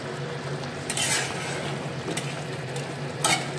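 Potatoes sizzling in a pan of paneer curry as a utensil stirs them, with a few scraping strokes over a steady low hum and fry crackle.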